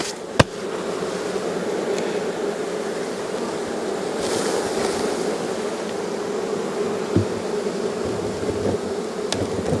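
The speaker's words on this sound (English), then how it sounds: "you can hear the hive now" A loud, continuous hum of a honeybee hive, thick and steady, with a couple of sharp knocks and thuds breaking through.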